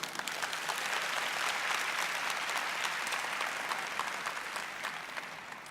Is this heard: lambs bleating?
no